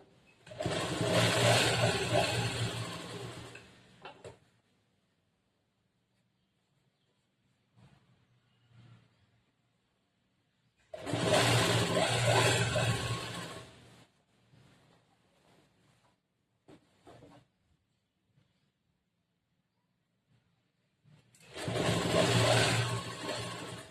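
A sewing machine stitches a churidar top in three separate bursts of fast, whirring running, each lasting a few seconds, with quiet pauses and faint handling noises between them.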